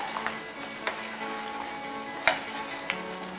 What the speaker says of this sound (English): And continue to stir. Never stop stirring this. Just keep stirring that.